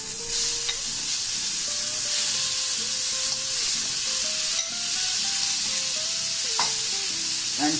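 Marinated prawns sizzle steadily in a hot tawa pan, a loud continuous frying hiss with occasional stirring scrapes and a faint tonal whine running underneath, no talking.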